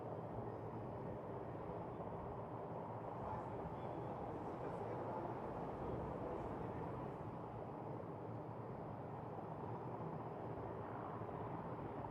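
Military aircraft flying an aerobatic display at the Aero India 2021 air show, a steady, continuous broadband engine roar that holds at an even level throughout, with no distinct passes or breaks.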